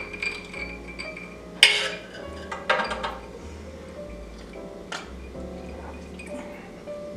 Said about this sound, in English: Give it a little mix and a stir.